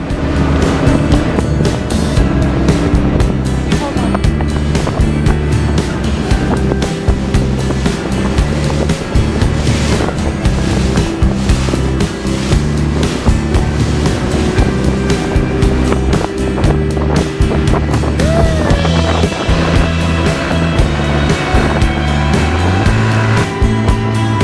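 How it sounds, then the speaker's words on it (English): A parasailing motorboat engine drones loudly and continuously off Bali, mixed with rushing wind and splashing water as the boat moves along. "We're on the parasailing boat now."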